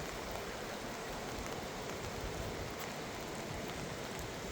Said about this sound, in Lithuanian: Nu ir lyja, net matyt neina nieko.